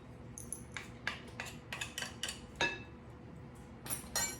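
Utensil repeatedly knocking and clinking against a bowl while dry ingredients for oat and apple breakfast muffins are stirred, a series of short bright taps at an uneven pace, close up with no talking.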